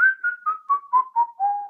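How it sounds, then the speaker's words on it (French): A person whistles a second track while recording in GarageBand on an iPhone or iPad: about seven short, clear notes step steadily downward in pitch, close and alone with no other sound. "Je siffle pour différencier."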